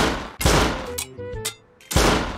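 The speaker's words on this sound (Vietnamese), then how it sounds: "Tôi không nghĩ ngợi nhiều mà về nhà lấy thêm đạn và bắt đầu bắn thủng cái trần nhà" Gunshots blast through a house roof in the survival game Rust, three loud close bursts separated by short gaps, with a faint metallic clatter between them.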